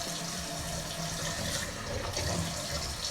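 Water runs steadily from a bathroom faucet while gel is rinsed off a face during an evening skincare routine, a continuous close splashing rush with no talk.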